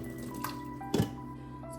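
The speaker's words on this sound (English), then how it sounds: "I'm draining the water off." Water drains from a pot of cooked fettuccine into a sink. A soft trickle runs throughout, with a few splashes and one brief gush near the middle. The sound is quiet and there is no talking.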